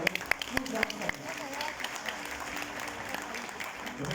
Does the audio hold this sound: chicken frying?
no